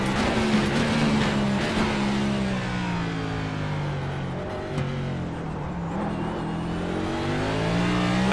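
A NASCAR Cup race car engine from iRacing drones loud and steady on the Charlotte ROVAL, its pitch sliding and shifting slightly as the car drives on, with no talk over it.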